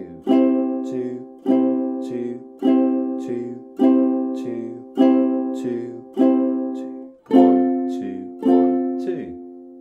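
A ukulele strums a steady two-beat pattern: about eight even, ringing chord strokes spaced roughly a second apart, each fading before the next, played close with no talking.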